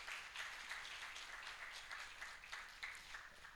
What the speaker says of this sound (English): Please welcome Mr. Amenume with a round of applause.